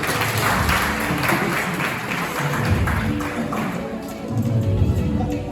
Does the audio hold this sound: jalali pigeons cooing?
no